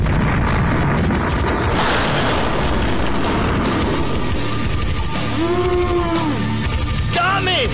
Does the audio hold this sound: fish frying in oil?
no